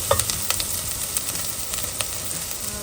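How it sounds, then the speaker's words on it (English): Masala for a fish curry sautés in a pan with a continuous bright sizzle, broken by occasional sharp crackles and stirring taps, close and moderately loud. "So let's saute it for about 3-4 minutes until it's well cooked, and then we can make a puree of it."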